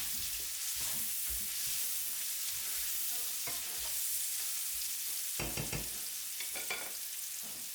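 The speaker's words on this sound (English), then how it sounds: "Give it a quick stir." Onion being stirred as it fries in rendered bacon fat, a steady sizzle with scraping spoon strokes and brief clacks, close and continuous throughout with no talking.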